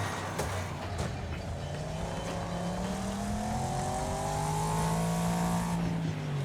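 In the racing game Wreckfest, a race car engine drones and climbs steadily as the car rounds the track. The pitch rises and holds, and scraping road and tyre noise runs underneath.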